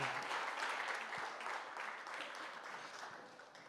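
Audience applause at the trailer launch of the Marathi film Jhimma 2, a steady wash of many hands clapping that gradually fades toward the end, with no talking over it.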